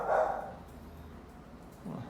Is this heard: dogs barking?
yes